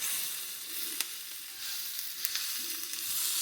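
Mushrooms sizzle steadily in a breakfast skillet, a continuous bright crackling hiss with a few sharp pops, close up and without voices.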